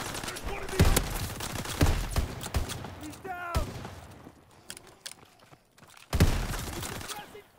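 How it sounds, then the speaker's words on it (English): Shotgun blasts in Call of Duty WW2's infected mode, several loud sharp booms spaced a few seconds apart amid other gunfire and mechanical clatter, with a voice speaking between shots. "I'm using my shotgun."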